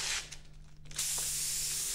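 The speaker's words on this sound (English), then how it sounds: "what I'm doing now is I'm spraying pearl black, using my black as a base coat, with two or three light coats" Spray gun misting pearl black automotive base coat over a gray ground coat in light coats, a loud steady hiss that briefly drops off near the middle and then resumes, continuous and alone.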